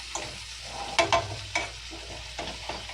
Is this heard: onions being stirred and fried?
yes